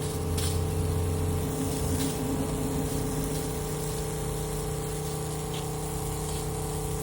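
A 12-volt softwash pump hums steadily and loudly at close range while being primed with a blend manifold, with watery gushing and sputtering from air in the line.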